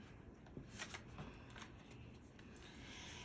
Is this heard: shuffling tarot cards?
yes